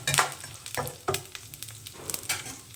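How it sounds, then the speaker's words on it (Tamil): Mustard seeds spluttering in hot oil with dal in a pan, a quiet close sizzle broken by sharp irregular pops and crackles, with no voices. "ஸோ கடுகு வந்து இப்போ பொரிய ஆரம்பிச்சிருக்கு பாருங்கள்"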